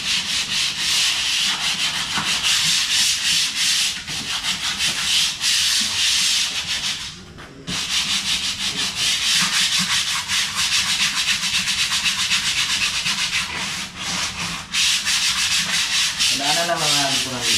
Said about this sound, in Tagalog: Kailangan na natin siyang lihain.